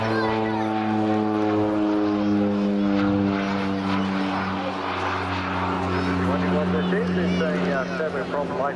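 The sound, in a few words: Rockwell OV-10B Bronco propeller aircraft flying at air show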